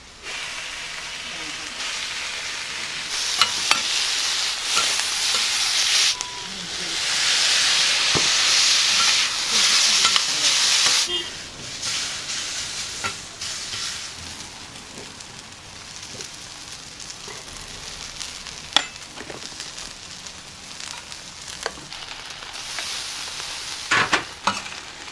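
Okonomiyaki sizzling and frying on a restaurant griddle, a steady hiss with louder bursts of steam and occasional scraping clicks, faint background voices.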